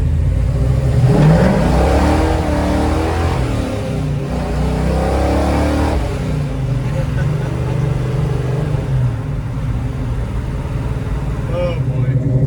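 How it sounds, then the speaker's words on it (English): A 1964 Chevelle with a 496ci V8 revs hard during a rolling burnout on a winter drive. The loud engine roar climbs and falls through rising surges, with a voice faintly in the mix. "This thing just does rolling burnouts too."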